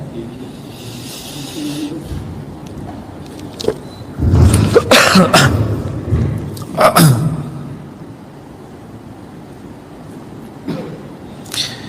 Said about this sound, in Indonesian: kalau dingin saya agak batuk-batuk dikit jadinya